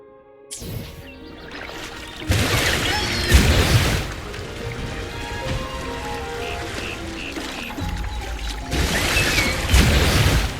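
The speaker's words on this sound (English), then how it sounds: "Waterfall." A waterfall in Wuthering Waves rushes as a broad, loud wash of falling water, with heavy splashing surges at the start and end and a steady roar between, no speech over it.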